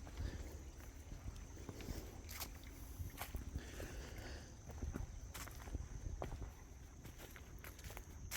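Footsteps crunching over rocks along a forest trail beside streams, as uneven close steps under a constant wash of background noise from wind or running water.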